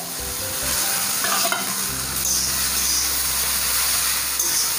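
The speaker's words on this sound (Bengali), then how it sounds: "চাউমিন আর সবজি আমি ভালোভাবে মিক্স করে নিচ্ছি।" Boiled chowmein noodles with vegetables, cabbage among them, are stir-fried in a pan, giving a loud, continuous hissing sizzle with scraping stirs close by and no talk.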